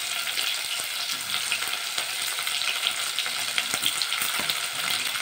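Onions fry in a pan for an elephant foot yam curry, a dense, steady, close sizzle with faint stirring crackles that run unbroken and alone.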